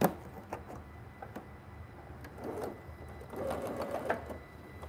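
A quilting sewing machine with a walking foot stitches through fabric in short, close bursts of rapid mechanical whirring, pausing between runs, fairly quiet overall.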